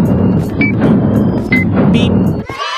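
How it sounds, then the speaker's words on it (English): Electronic beeps in a Minecraft game scene built as an Apple Store, a few short tonal blips standing out over a steady, dense background rumble like traffic, ending in a brief sharp change of sound. "Beep."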